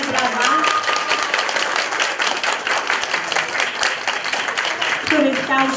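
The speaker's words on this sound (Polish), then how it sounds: "duże brawa, mocne brawa" Audience applause for a bandmaster at a Christmas Eve arts concert: dense, continuous clapping from a crowd that holds steady and fairly loud throughout, with voices faintly mixed in.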